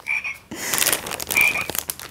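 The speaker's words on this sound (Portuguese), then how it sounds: "tem então o som da rã" A small bath book for babies plays a recorded frog croaking, with a couple of repeated croaks sounding from its little electronic speaker, close by and clear, with no talking over them.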